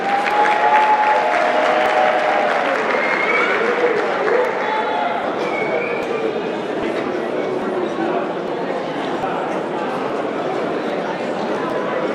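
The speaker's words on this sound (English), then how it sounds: "Ladies and gentlemen, round of applause for Dr. Titus Williams." Loud, sustained audience applause at a netball championship closing function and awards ceremony, many hands clapping at once with scattered voices and cheers mixed in, gradually easing off over several seconds.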